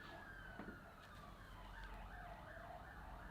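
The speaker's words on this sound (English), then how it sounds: "that was 2 police cars and 3 ambulances" Wailing sirens of two police cars and three ambulances rise and fall, several overlapping tones sweeping up and down over a steady background rumble, heard from a distance in the street.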